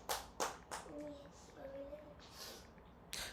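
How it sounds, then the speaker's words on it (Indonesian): A church congregation claps in a few scattered, sharp but faint hand claps, with a voice singing or speaking softly between them. "Tepuk tangan buat Allah kita"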